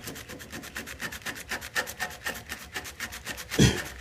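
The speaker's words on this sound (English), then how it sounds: "I'm gonna sand a little bit more." Paint is hand-sanded off the fuel tank of a Honda CBR 600 F3 with rhythmic, rasping back-and-forth strokes at close range, and a louder knock near the end, without speech.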